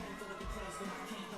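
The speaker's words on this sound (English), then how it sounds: "the crowd is going crazy" A wrestling crowd cheers loudly in an arena, a dense, steady roar of many voices that fills the whole short moment.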